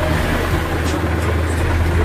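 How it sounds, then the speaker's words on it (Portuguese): A motorcycle engine idles steadily at close range, a constant low rumble with no speech. "Pegando tudo normal na moto."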